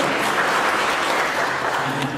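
Audience applause fills a church during a Black History Month service on faith and racial justice, a steady wash of clapping close and loud for a couple of seconds.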